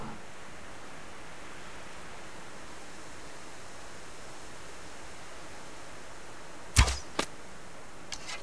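A single arrow is loosed in the survival game Subsistence, a sharp twang and brief whoosh with a faint follow-up snap, over a quiet hissing outdoor ambience.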